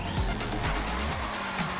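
A car drifts in GTA Online, its engine droning continuously at a high pitch with a rising tone laid over a low rumble, giving off the steady racing-car sound of a video game.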